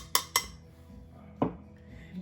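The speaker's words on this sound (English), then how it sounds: "put a little bit in a bowl" Mustard and collard greens are served into a bowl with a utensil, giving two quick bright clinks against the dish, then a softer knock and low scraping, close and fairly quiet.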